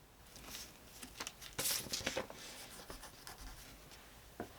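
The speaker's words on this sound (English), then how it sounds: "I'm checking all the measurements and then marking them off my cut sheet" A pen marking off measurements on a timber cut sheet, with quiet close scratchy strokes in short bursts and pauses, no talking.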